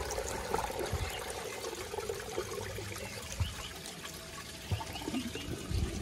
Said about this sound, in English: I'm gonna empty the rest of the water out of the tank